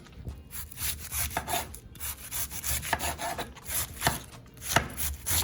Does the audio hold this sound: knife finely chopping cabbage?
yes